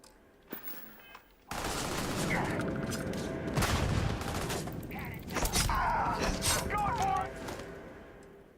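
Gunfire from a close-combat build in the sci-fi game Starfield: a dense, continuous barrage of loud shots with thuds and booms, starting abruptly after a quiet opening and holding steady for several seconds.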